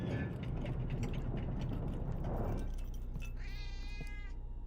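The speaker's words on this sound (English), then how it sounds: "We have a cat!" Cat meowing in a video game train sequence, a harmonic meow near the end after a stretch of dense game noise and clanking mechanical sounds, moderately loud with no talk.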